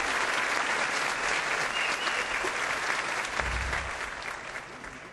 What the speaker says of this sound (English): how about a big round of applause for the master of the keys here, Mr. Dean Mora himself.